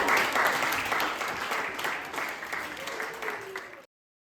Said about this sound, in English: Please give a warm round of applause to Jackie and Sarah!